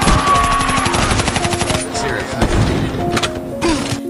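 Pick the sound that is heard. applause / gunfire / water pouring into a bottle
gunfire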